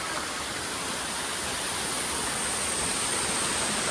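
Spray from a hillside waterfall in Nepal splashes onto a nearby camera, a loud, unbroken rushing hiss of falling water filling the whole stretch.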